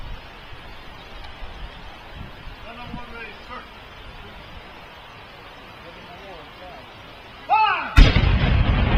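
A 12-pound cannon fires at a living history event, one sudden loud blast near the end that leaves a broad rumbling roar behind it, after a stretch of quiet outdoor ambience with faint voices.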